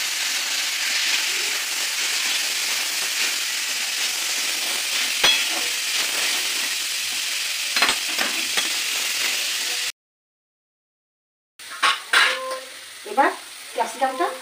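Vegetables for Kolkata street-style veg chowmin sizzle and hiss in a hot pan while being stir-fried, a continuous bright frying noise that cuts out briefly and returns with scraping stirs.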